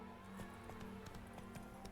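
A horse galloping in The Witcher 3, quick rhythmic hoofbeats thudding in a steady repeating pattern over game ambience, moderately loud and close.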